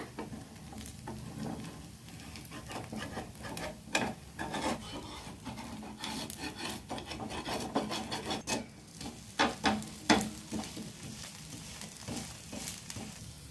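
A leftover-rice dosa being turned over in a pan, heard as quiet scraping and rasping of a spatula against the pan with soft, irregular taps and a faint sizzle underneath, no talk.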